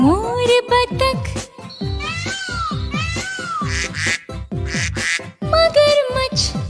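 Duck-like quacks sound in quick nasal bursts over a loud, rhythmic backing track at a children's animal-themed stage performance. The calls repeat steadily and stay up front in the mix.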